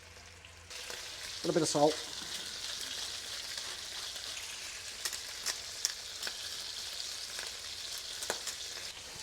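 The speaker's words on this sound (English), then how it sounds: "So once you've got your butter melted and the ginger and garlic in, just going to place our pieces of fish in." Pieces of coral trout sizzle steadily in melted butter with ginger and garlic, a close, continuous frying hiss with a few sharper crackles and pops, while a voice speaks briefly early on.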